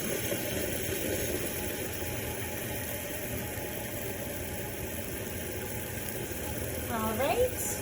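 A laboratory vacuum pump hums steadily while drawing off liquid during filtration of aldol condensation crystals, a constant mid-pitched mechanical drone with no pauses.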